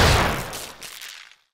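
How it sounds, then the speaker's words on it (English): A loud explosion in the Roblox game, a broad blast that bursts in at full strength and rumbles away over about a second, ending in a brief burst of new sound. "Daya, please tell me you just heard that explosion."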